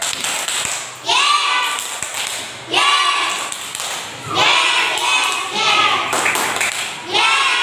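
A classroom of students claps twice in unison in response to a teacher's call, producing short bursts of sharp, near handclaps repeated several times across the clip with voices between.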